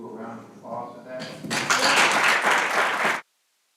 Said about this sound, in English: Do a round of applause for that